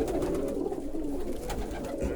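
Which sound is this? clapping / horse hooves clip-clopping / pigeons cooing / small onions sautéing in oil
pigeons cooing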